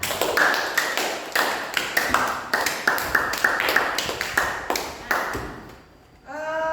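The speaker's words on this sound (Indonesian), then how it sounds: "Tepuk tangan." Classroom applause from a group of students, a steady run of sharp claps in quick rhythm close by, fading at the end into a voice beginning to speak.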